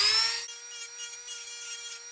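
A cone drill bit bores a hole in the chassis of a Mesa Dual Rectifier amplifier, giving a steady high-pitched grinding whine with a rhythmic pulsing as the bit cuts, close and alone.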